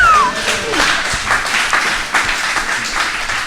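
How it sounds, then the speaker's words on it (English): A studio audience at a live surf-show taping in Charleston applauds surfer Cam Richards, a loud, close burst of clapping with a brief vocal whoop at the start that then continues steadily. "Cam, round of applause for Cam."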